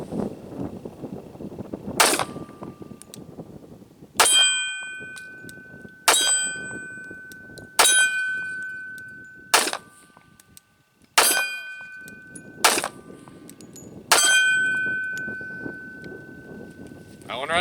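A handgun fired through a magazine, shot by shot: sharp loud reports spaced roughly every two seconds, each with a ringing metallic tail, close and isolated between shots.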